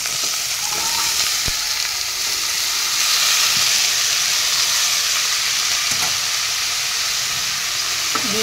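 Spiny gourd pieces frying in oil in a pan with spice powders, a loud continuous sizzle and hiss with occasional stirring knocks and scrapes, close up and without speech.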